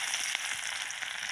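Chopped onions, two green chillies and garlic fry in hot oil in a kadai with a steady, close, bright sizzle and no voices.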